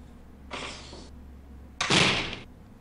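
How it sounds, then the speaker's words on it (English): Two doors in the game Phantasmagoria close one after another: a softer whooshing close first, then a louder, heavier thud with a slight rattle, both near and without voices. "That closing door sound is kind of spooky."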